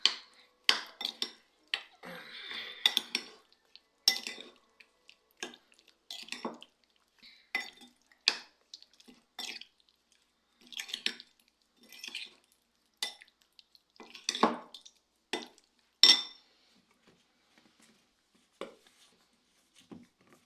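Homemade chicken fillet mixture with salt being stirred in a bowl, a series of close clinks and scrapes of a utensil against the dish in irregular bursts, with quiet pauses between strokes.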